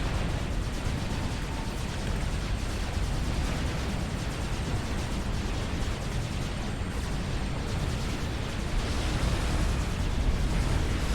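Galactic Colossus experimental walker firing in Supreme Commander Forged Alliance, a dense, continuous roar of explosions and weapon blasts filling the battle without pause, loud and steady throughout.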